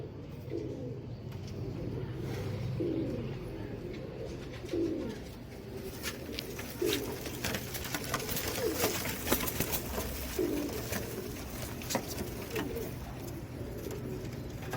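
Royal Teddy pigeons coo in a loft, soft repeated throaty coos spaced every couple of seconds over a steady low background hum, with faint chirps and rustling mixed in.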